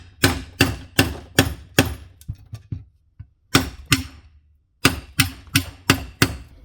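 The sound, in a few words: hammer striking back of Wera 900 chisel screwdriver into pine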